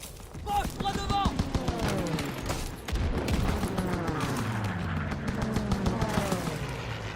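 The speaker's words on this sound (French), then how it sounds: "Prends ce canon anti-aérien et descends ces Stuka!" Anti-aircraft gun bursts against Stuka dive bombers in the Call of Duty WWII game's Operation Cobra battle, heavy rapid fire rolling under shouted voices.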